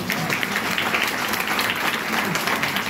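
An audience at a national theatre seminar applauds in a continuous, dense wash of many hands clapping at once, steady and fairly loud throughout.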